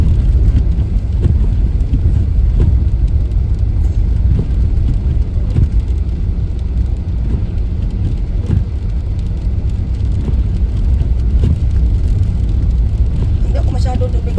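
Steady road noise from inside a car crawling through dark early-morning winter traffic: a continuous, loud low rumble of tyres and engine with wind hiss and no breaks.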